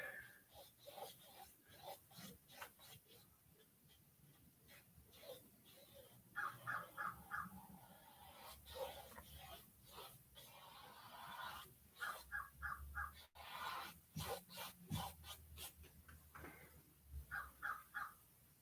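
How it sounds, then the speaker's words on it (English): A crow caws repeatedly outdoors in bursts of harsh squawks, fairly distant, with quiet gaps between the calls. "There's a crow outside."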